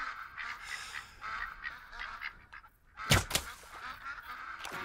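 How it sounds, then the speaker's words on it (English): A rare piebald drake mallard duck in the hunting game Call of the Wild quacks and honks repeatedly from about 30 yards away, followed by a sharp loud crack partway through. "We got a rare piebald Drake Mallard duck, and he's a gold potential. He's 30 yards in front of us here."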